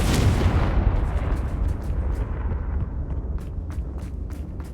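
A Confringo spell explosion in the video game Hogwarts Legacy, a loud rumbling blast right at the start that trails off into a long, fading roar, with faint scattered crackles and pops near the end.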